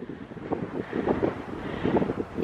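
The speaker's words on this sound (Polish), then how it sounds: "Troszkę tutaj wiele wieje. Wieje, jest wiele wiatru." Strong wind at a 20th-floor viewpoint on a Christmas trip to Germany buffets the microphone in loud, gusty, low rumbling bursts that continue throughout without speech.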